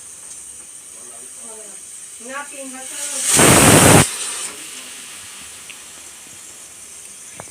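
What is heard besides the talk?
pressure cooker hissing steam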